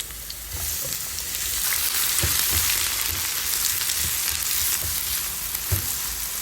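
Garlic, onion and green chili fry in hot oil for a small-shrimp vegetable dish, a loud, close, continuous sizzle with occasional soft knocks of a stirring spoon against the pan, no talk.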